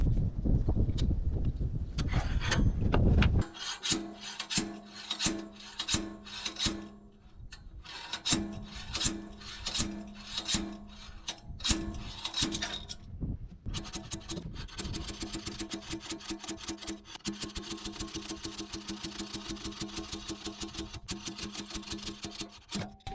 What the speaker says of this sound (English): Could use a bigger slide hammer for these.